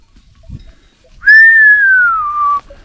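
A goat herder's single long sliding whistle, loud and close, in a village pasture with goats, following a faint short grunt from an animal.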